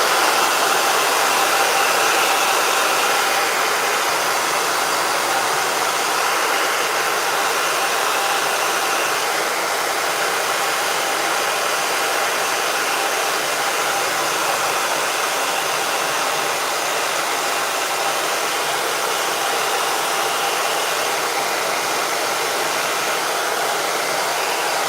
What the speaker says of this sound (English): I'm going to blast this with a hairdryer